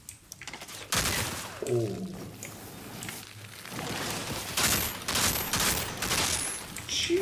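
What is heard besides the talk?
weapon gunfire in Outriders video game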